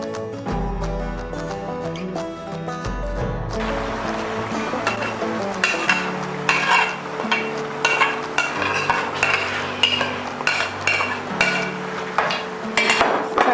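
Spoon knocking and scraping in a pan while mixed vegetables are stirred together with blended celery, ginger, garlic and parsley, giving repeated close metallic clinks and taps in an irregular rhythm after a low rumbling start.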